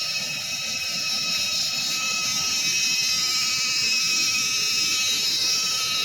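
Insects in a forest adventure park near a hanging bridge keep up a dense, steady high-pitched droning chorus throughout, constant and fairly loud with no pauses.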